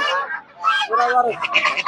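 Domestic ducks and geese at a poultry market give a short burst of close, nasal honks and calls, mixed with nearby voices.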